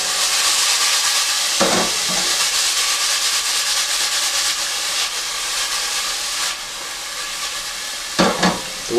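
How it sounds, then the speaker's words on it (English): Vegetables frying in a straight-sided pan for chicken soup, a steady bright sizzle and hiss throughout, broken by a few scraping stirs, with a louder disturbance near the end. "Now let's throw in the veg."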